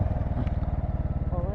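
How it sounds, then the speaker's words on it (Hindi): A motorbike is ridden and brought to a stop on a mountain road near Chopta in Uttarakhand, its engine chugging in a steady, close, rhythmic pulse throughout. "अब यहाँ रोकते हैं बाइक को"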